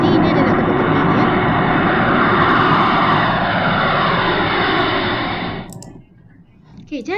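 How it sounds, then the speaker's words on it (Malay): A fixed-wing airplane drones loudly and steadily overhead for about six seconds, a broad engine roar that fades abruptly near the end. "Jadi ini adalah kapal terbang, ya."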